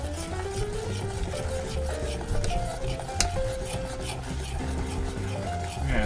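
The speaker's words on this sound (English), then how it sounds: "And you gotta stir it constantly." Sugar melting in a pot for pralines is stirred constantly, giving a soft continuous scraping with faint sizzle and occasional utensil clinks, partly under background music and some talk.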